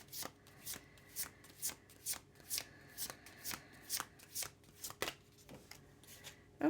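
Tarot cards are shuffled again and again in a steady riffling rhythm, each burst a crisp papery flutter, close but soft, with no talking.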